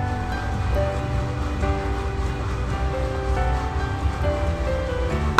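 Mustard seeds and chana dal splutter in hot sesame oil, a steady, close, dense crackle and sizzle that runs unbroken throughout, with no talk.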